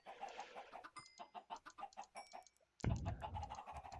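Chickens cluck in the block-building game Minecraft, a run of quick, close, rhythmic clucks that is cut off by a louder burst of bird noise.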